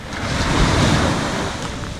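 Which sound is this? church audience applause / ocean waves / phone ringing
ocean waves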